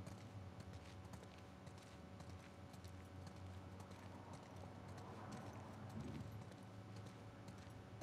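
Horses' hooves clip-clop at a walking pace in The Last of Us Part II, a soft, steady run of hoof beats under quiet ambient game sound.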